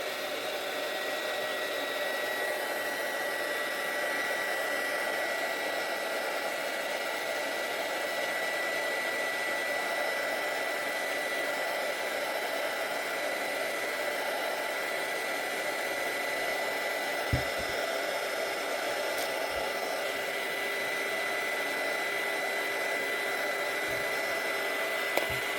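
A heat gun blows continuously while softening label adhesive on a mug, a steady close whooshing hiss with a faint motor whine, broken only by a couple of tiny clicks.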